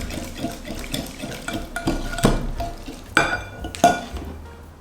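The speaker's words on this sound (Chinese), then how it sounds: "把材料搅拌均匀就可以来调制馅料了" Ingredients for a traditional five-nut mooncake filling are mixed in a bowl, with scraping strokes and scattered clinks of a utensil against the container, close and fairly loud, with no talking.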